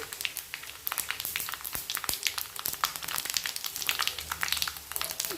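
Mustard seeds and cumin fry in hot oil for an egg pulusu tempering, crackling and popping densely and continuously at close range with sharp sputters throughout. No one talks.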